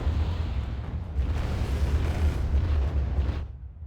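Heavy explosive weapon fire rumbles from units in the Wargame strategy game, a dense continuous barrage of deep booms that swells and fades over a few seconds, with no talking.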